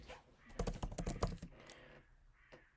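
Rapid burst of computer keyboard typing, a quick run of close, crisp key clicks that then thins out into a quieter stretch with a faint trailing tap.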